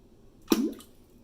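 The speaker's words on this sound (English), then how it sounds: "Major splashes from the larger pebble." A larger pebble drops into toilet water and makes a single brief, fairly loud splash with a short watery tail, close up and alone in a quiet room.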